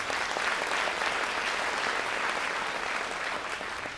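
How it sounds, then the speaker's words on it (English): Steady audience applause at a high school spring band concert, a continuous wash of many hands clapping for a graduating student, fairly loud and unbroken with no voices. "Let's applaud for Ariella"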